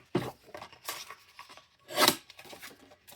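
Vellum paper is trimmed for card making with short, dry scraping and rubbing strokes and a sharper slice near the middle, close and fairly quiet.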